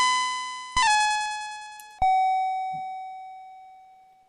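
Harsh electronic beeping from The Castles of Dr. Creep: two loud, buzzy tones, each starting abruptly, the second lower in pitch and ringing on as it slowly fades.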